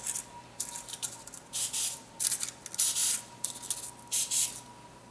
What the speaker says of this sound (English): So I'm spraying with my right hand.